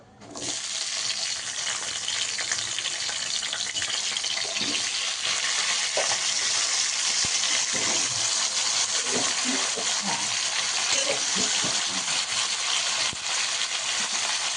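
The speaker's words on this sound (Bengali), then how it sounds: "তো আলুটাকে ভেজে নিই" Potato pieces fry in hot oil seasoned with bay leaf and panch phoron, a dense continuous sizzle starting abruptly and holding steady, close and loud, with faint clinks underneath.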